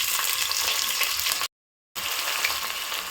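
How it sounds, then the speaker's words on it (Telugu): Chopped onions fry in a hot pan for mutton curry, a loud, steady sizzle that cuts out briefly partway through and then resumes. "లైట్ బ్రౌన్ కలర్ వచ్చే వరకు ఫ్రై చేసుకుందాము."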